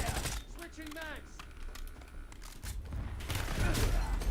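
Video game gunfire, bursts of rapid shots and crackling fire alongside clicky game effects, moderately loud and close, with brief voice sounds.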